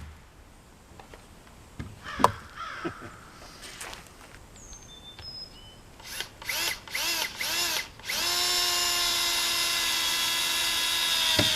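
A power drill whines as it drives into wood for a raised garden bed, with a few short bursts followed by a long sustained high-pitched spin, loud and close.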